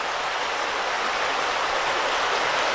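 Creek water flows steadily beneath a steel-beamed covered bridge in Pennsylvania countryside, a continuous loud, broad rushing wash with no other sounds or voices.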